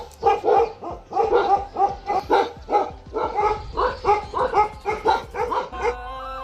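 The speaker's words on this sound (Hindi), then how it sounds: "इसलिए वहाँ पे चले गए और भौंक रहे जोर जोर से" Dogs in a village bark loudly and repeatedly in quick bursts of sharp, close barks, with a few higher yips and whimpers between them.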